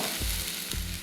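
Half an onion tossed in a pan over low heat, giving a steady close sizzle with two soft bumps as the pieces are flipped, lasting about a second with no voices.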